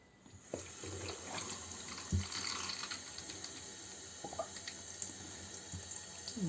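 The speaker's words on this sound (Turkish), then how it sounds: "Bakın içerisinden bayağı bir pislik akıyor. Biraz daha ıslatalım." Running water pours and splashes steadily as dirt is rinsed out of a home heating radiator, with occasional knocks and clanks from handling, no talking.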